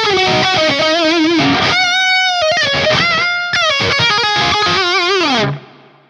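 Lead guitar tone from a ToneX pedal with a mid bump, reverb and a noise gate, loud singing distorted notes with bends and fast runs, closing on a held note that dies away.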